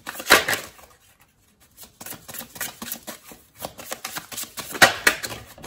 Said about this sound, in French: Je vais tirer encore une carte ici.